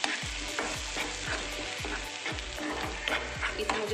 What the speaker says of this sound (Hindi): इसे मुझे अच्छे से फ्राई करना है।